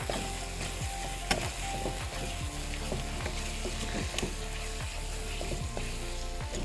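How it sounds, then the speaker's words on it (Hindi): Chicken masala fries hard in a pan, a constant close sizzle broken by repeated scraping strokes of a spatula as the spices are stirred and roasted, with no voices present. "सही से भुनाई करेंगे इसकी"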